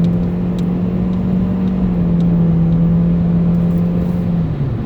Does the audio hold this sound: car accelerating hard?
yes